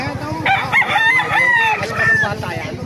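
A White Kelso gamefowl rooster crows loudly and close by, one long drawn-out cock-a-doodle-doo with other birds clucking faintly in the background.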